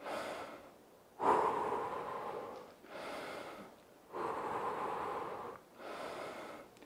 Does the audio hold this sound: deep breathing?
yes